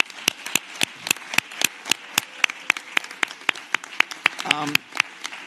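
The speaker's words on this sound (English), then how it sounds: "Another round of applause, please." Sparse audience clapping after a talk on human rights, a steady run of separate hand claps at a moderate pace, fairly close and of even loudness.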